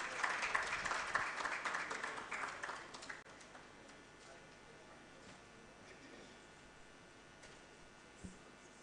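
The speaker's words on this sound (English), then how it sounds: "A round of applause as Professor Amos makes his way." A conference audience at an event on African food systems applauds as the session moderator comes up. The clapping is clear for about three seconds, then fades into a quiet room with a faint click later on.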